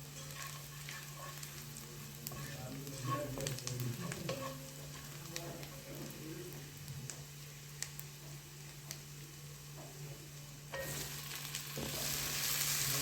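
Tomato chunks dropped into a pan of onions frying to translucence, a steady soft sizzle with stirring and scraping, a low constant hum beneath, and the frying growing brighter and hissier near the end.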